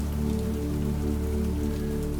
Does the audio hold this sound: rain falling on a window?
yes